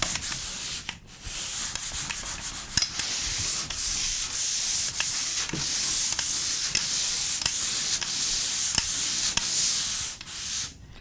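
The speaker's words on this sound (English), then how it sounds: "So the first step for today is just to sand it." Sanding a dried drywall skim coat by hand produces a steady, close scratchy rasp of repeated strokes that runs without pause for the whole stretch, with no talking.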